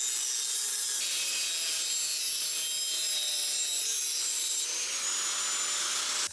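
A saw cutting a 3-inch Vibrant Performance exhaust pipe at a slight slant for a BMW E46, producing a steady, continuous high rasping and scraping noise throughout, close and loud, with no talk.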